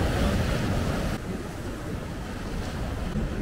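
Constant roar of sea waves at Las Teresitas, a yellow-sand beach in northern Tenerife, heavily mixed with wind buffeting the microphone, broad and unbroken with no voices.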